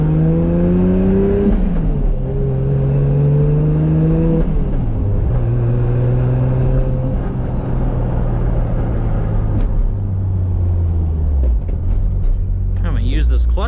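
A Toyota Supra's engine drones from inside the cabin, its pitch rising through the gears and dropping at each shift, a loud steady rumble with faint road noise and a few clicks near the end.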